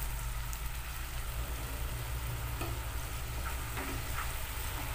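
Tempeh sizzling and frying in sweet soy sauce while being stirred in a pan, a steady loud crackle with faint scraping stirs, no voices.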